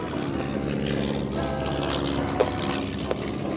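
The B-17 Sally B's piston engines run while taxiing at Duxford during an air show, a steady loud propeller drone with a throbbing hum and occasional clicks.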